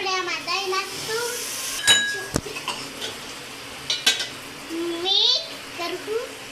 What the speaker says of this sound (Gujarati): હવે આપણે મિક્સ કરી લેવું છે. આપણે આમાં દહીં નાખશું.